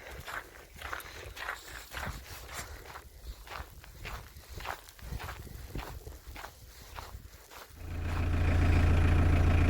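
A camper van engine starts in cold, snowy weather and settles into a loud, steady idle near the end, after a long stretch of crunching footsteps in snow.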